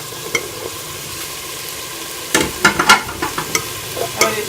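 Finely chopped potatoes and carrots tipped into a hot pan of oil and peas for vegetable pulao, a quiet hiss that bursts into loud crackling sizzle with spoon stirring scrapes, close up and without talk.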